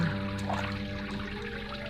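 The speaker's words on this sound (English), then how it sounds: "Put one hand in the water." A hand dips into a stone fountain basin as an old-time radio suspense sound effect. Water trickles and pours gently throughout, with a low steady hum underneath.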